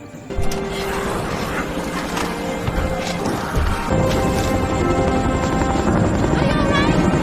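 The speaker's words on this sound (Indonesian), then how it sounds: "agar Jung dan anak-anaknya berhasil melarikan diri menuju helikopter" A helicopter in a zombie film, its rotor a continuous loud chopping roar under a voice speaking, with a few sharp impacts and other crashing mixed into the dense soundtrack.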